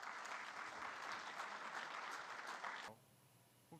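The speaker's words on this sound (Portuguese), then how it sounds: "Mais uma salva de palmas." A ceremony honoring space agency staff fills with dense, steady applause from a crowd for nearly three seconds before it cuts off abruptly into quiet room tone.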